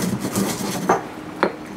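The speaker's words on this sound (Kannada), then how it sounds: "ಸ್ವಲ್ಪ ಬೆಚ್ಚಗಿದ್ದಾಗಲೇ ಇದನ್ನು ಸಣ್ಣದಾಗಿ ಪುಡಿ ಮಾಡ್ಕೋಬೇಕು." Warm roasted spices being ground to powder in a mortar, a soft steady rubbing rasp with two sharper pestle knocks near the end, close and quiet with no talking.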